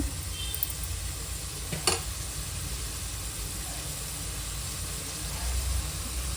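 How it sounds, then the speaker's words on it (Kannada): Tomato masala with salt frying in a pan for a basmati rice biryani, giving a steady close sizzle with a brief scrape of stirring partway through. "ಅದಕ್ಕೆ ಉಪ್ಪು ಹಾಕಿದ್ಮೇಲೆ ಚೆನ್ನಾಗಿ ಫ್ರೈ ಮಾಡಬೇಕು, ಟೊಮೊಟೊ ಸಾಫ್ಟ್ ಆಗೋ ತನಕ"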